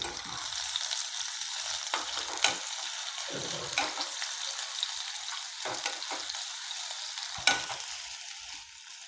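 Chopped onion and bay leaf fry in hot oil as they are stirred, a close, steady sizzle broken by scraping strokes and occasional sharper clinks of the spoon against the pan.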